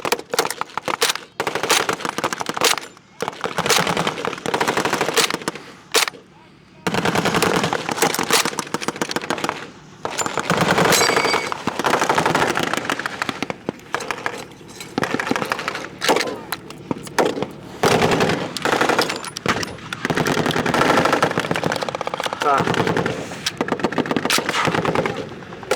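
Bursts of blank machine gun fire crackle at a World War II reenactment battle in Zephyr Hills, Florida, with dense rapid volleys and scattered single shots running loud and nearly continuous throughout.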